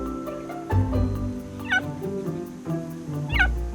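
Cheetahs give high, bird-like chirps, with two sharp chirp bursts standing out over a steady low, droning bed of sound, clear and fairly close.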